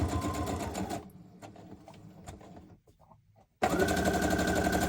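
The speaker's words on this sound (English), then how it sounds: "Stitch all the way around. A couple of times." A sewing machine stitches around the edge of a junk journal piece, running loud and steady in two close bursts with a quieter pause of handling noises between them.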